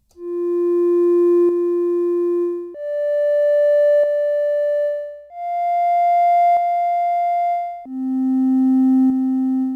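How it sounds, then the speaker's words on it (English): An analog synthesizer plays four sustained notes in turn, each swelling up then holding at a steady level with no decay, a bright buzzy tone stepping to different pitches, loud and alone. "you can hear it here where it's going all the way up and then dropping to the sustain volume instantly because there's no decay"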